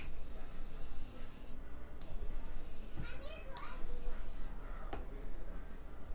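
A facial oil spray is misted onto a face in three short, close hissing bursts, with quiet talk and background sounds around them.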